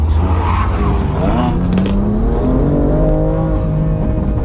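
A BMW M2 engine revs hard as the car accelerates, its loud, close drone climbing steadily in pitch through the gears, with faint road and tire noise underneath.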